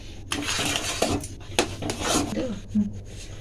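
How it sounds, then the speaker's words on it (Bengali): Rice flour paste is stirred in a pot over a full flame, with repeated scraping and rubbing strokes of a utensil against the pot's metal, fairly close and uneven in rhythm, while a voice speaks briefly underneath. "এটা নেড়ে যেতে হবে, না হলে পরে নিচে লেগে যাবে।"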